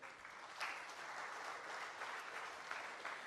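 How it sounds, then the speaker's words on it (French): An audience at a conference on food self-sufficiency and agriculture applauding steadily, a dense, even patter of many hands heard from within the hall. "Monsieur Kalapinga, sous vos applaudissements s'il vous plaît"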